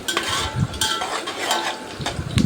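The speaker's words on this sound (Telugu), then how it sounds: "అల్లం వెల్లుల్లి పేస్ట్ వేస్తున్నానండి" Ginger garlic paste sizzling in a hot pan for mutton biryani, a close, steady frying hiss broken by repeated scrapes and clinks of a spoon stirring against the pan.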